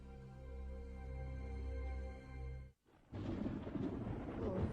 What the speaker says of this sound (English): Sounds like a storm coming up.